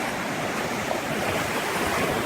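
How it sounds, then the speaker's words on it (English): Ocean waves break on a secluded beach with a steady, loud wash of surf and no clear gaps between swells. "The ocean is so cool and relaxing."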